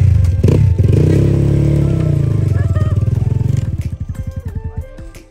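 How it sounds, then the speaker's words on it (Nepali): A motorcycle nearby, being pulled out for a ride, roars with a loud revving drone that gradually falls away into a slow, uneven chugging idle. "अच्छा ल बाइक तानेर"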